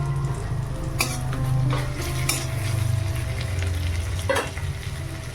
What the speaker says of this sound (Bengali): এবারে দেখো রসুন বাটাটা দিয়ে দিচ্ছি এটা রসুন বাটা আর লঙ্কা বাটা